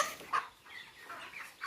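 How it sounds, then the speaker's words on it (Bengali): A red-combed rooster at a poultry stall where broiler chickens are weighed gives a few faint, short clucks, one sharper burst early and another near the end, over a quiet background. "এটা তো মোরগ।"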